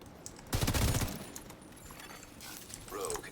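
A burst of rapid automatic gunfire rattles in The Division 2 PvP, a dense clatter lasting about half a second, followed by quieter game noise and a faint electronic tone.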